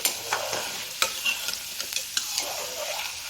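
Okra (bhindi) frying in a pan, a steady close sizzle with repeated scraping stirs of a spatula, loud and alone without talk.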